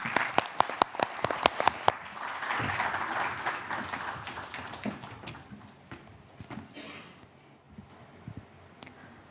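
Audience applause for Team Ghana at a student competition, a short burst of sharp claps that quickly gives way to a murmuring crowd with scattered claps and knocks.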